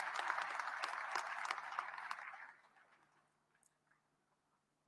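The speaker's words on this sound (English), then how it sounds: "Please applaud yourselves." Applause from the audience at a presidential acceptance address in South Africa, a dense patter of clapping that carries on for about two and a half seconds, then thins out and dies away into near silence.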